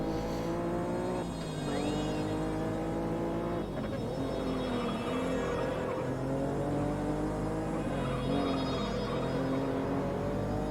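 Acura NSX engine in the racing video game Juiced, a steady drone with rising and falling revs as gears shift, loud and continuous throughout with no voices.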